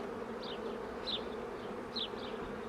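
Honeybees buzzing steadily around an open hive during an inspection, a continuous close drone with a few brief higher buzzes as individual bees pass near.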